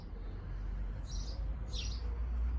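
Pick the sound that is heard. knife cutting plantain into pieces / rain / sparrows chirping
sparrows chirping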